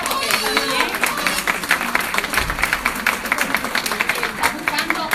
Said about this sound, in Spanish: vamos a aplaudirlo